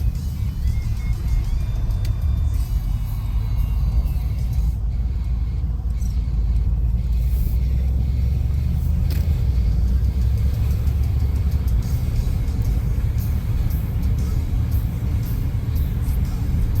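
Deep, steady engine and road rumble from a 500 hp Mercedes-AMG C63S convertible on a leisurely drive through Toronto, holding at an even, loud level throughout.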